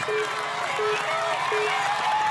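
A large arena crowd cheers and applauds at an American Ninja Warrior national finals course in Las Vegas, a steady roar of noise held under a commentator's voice throughout.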